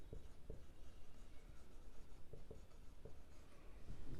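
Pen or chalk writing by hand during a class maths lesson, with short scratchy strokes in an irregular rhythm, close and fairly quiet.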